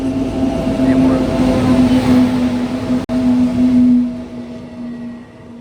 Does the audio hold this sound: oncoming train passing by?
yes